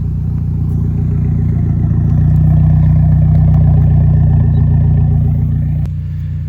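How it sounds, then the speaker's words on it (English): A 2010 Mitsubishi Lancer Evolution GSR engine revs on a chilly winter day, a steady loud rumble that swells around the middle of the clip before easing back, heard close with no talk. "I'll hop in and give it some revs for you guys."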